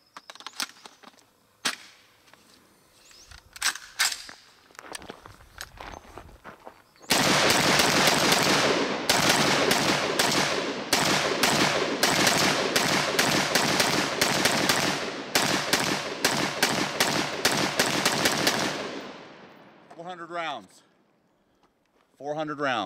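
A pistol fitted with a Holosun HS503GU red dot sight fires a fast string of loud, close shots for about twelve seconds before stopping, with speech before the shooting starts.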